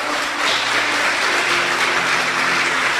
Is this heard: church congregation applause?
yes